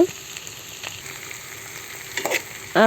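Okra (lady fingers) frying in a pan with turmeric, salt and ginger paste, a steady close sizzle with brief stirring scrapes near the end, no voices.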